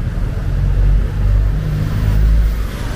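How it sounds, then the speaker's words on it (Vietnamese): Traffic jam on Highway 60 near the Rạch Miễu bridge: a steady low rumble of idling and creeping engines, with a car revving faintly and swelling twice, no voices. "thường xuyên xảy ra kẹt xe như thế này"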